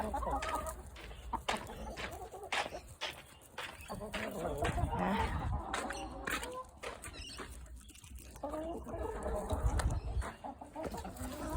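Chickens cluck and squawk close by in a busy flock, with a voice speaking over the steady farmyard chatter.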